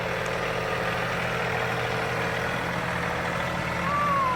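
A farm tractor idles nearby with a steady, low rumbling drone that holds even throughout, with no talking over it.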